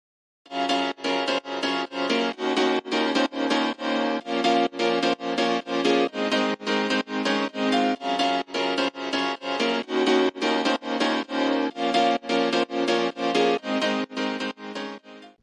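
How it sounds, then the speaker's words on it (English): Bright, catchy layered piano melody for a progressive house track built in FL Studio 20, playing steady evenly spaced chords in a fast, even rhythm, loud and close with no talk over it. "you can make a catchy melody. It should sound like this."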